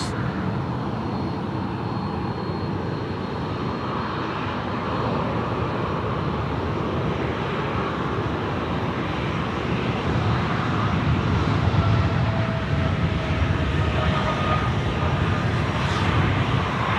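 A Singapore Airlines jet departs Sydney Airport with a continuous, heavy engine rumble that builds gradually louder toward the end, with a thin whine riding over the roar.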